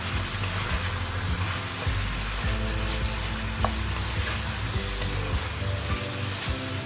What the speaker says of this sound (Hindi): चिकन को हमें तेज़ आंच पे पकाना है।